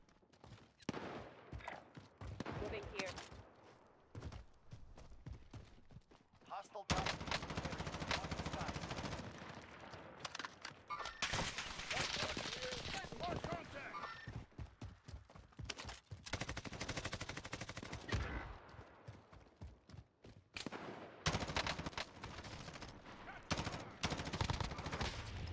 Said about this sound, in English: we're getting sniped at, bro